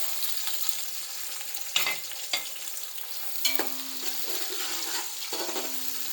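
Onions hitting hot oil with garam masala in a pan for yakhni pulao, a steady bright sizzle with a few sharp clatters and stirring knocks.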